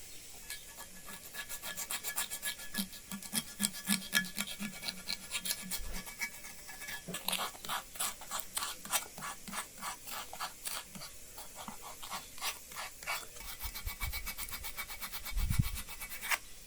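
A sculptor sands an alabaster stone carving of a holm oak with coarse 60-grit sandpaper, producing a long run of close, steady rasping strokes with a brief dull knock near the end.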